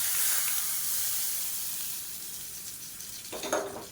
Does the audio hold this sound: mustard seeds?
yes